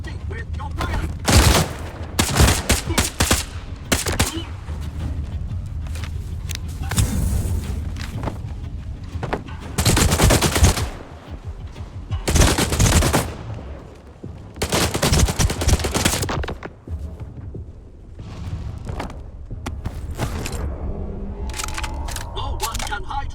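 Gunfire in the video game STALKER 2 comes as repeated loud bursts and single shots, with some rapid machine-gun fusillades. Voices talk in between and under the shots.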